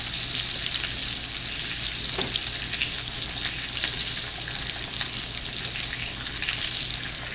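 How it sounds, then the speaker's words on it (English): Slices of Spam frying in a pan for Spam musubi, giving a steady, dense sizzle and crackle that holds even and close throughout with a single faint tap, and no voices. "I'm just going to fry these really quickly, just as a demonstration."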